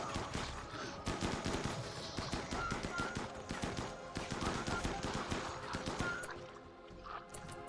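Rapid gunfire during shooting practice in the Rimworld video game, dense bursts of clicky shots in quick irregular succession, fairly loud and continuous, easing slightly toward the end.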